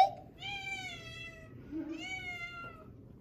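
A pet cat begs for treats indoors with two drawn-out, rising meows about a second apart, close and clear over a quiet room.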